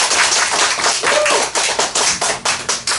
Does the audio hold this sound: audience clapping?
yes